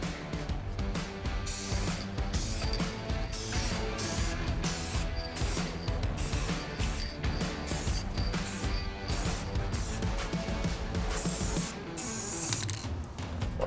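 A spray gun hisses continuously at close range, laying paint over a repair area on a Toyota 4Runner with brief pauses between passes.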